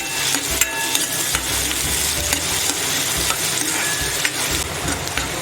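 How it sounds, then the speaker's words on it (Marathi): Chopped onions sautéing in butter in a pan over low heat, a steady close sizzle broken by scraping stirs of a spoon against the metal, with no voices. "कांदा आपल्याला व्यवस्थित असा स्लो गॅसवरती परतून भाजून घ्यायचा आहे"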